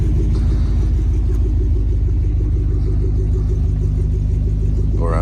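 A 1968 International D1100 truck driving, its engine a loud, steady low rumble with a pulsing drone heard from inside the cab, continuous for several seconds.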